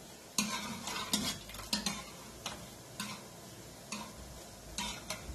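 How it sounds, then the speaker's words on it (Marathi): A wooden masher works bottle gourd and brinjal in a pot, making a rhythmic series of close, soft knocks and squelchy scrapes at a steady pace. No one talks. "रवी असते लाकडी ती घ्या किंवा पळीने असं त्याला कसं असं मॅश करा"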